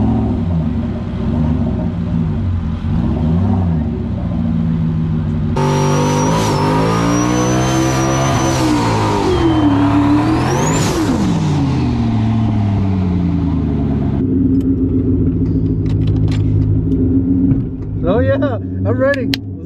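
Big-turbo Mustang GT of about 1,700 horsepower on a drag strip, its engine droning loudly and then climbing in a hard rising rev throughout, with a voice heard briefly under the roar.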